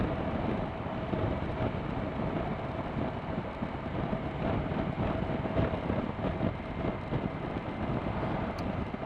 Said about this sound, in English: So already I know the wind buffeting is less on this bike